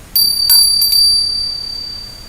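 Small metal bell rung as a devotional offering, a few bright strikes followed by a clear ringing tone that fades slowly, close and alone.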